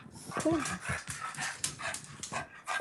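A dog pants heavily in quick, rhythmic breaths close to the microphone, with a brief whimper early on.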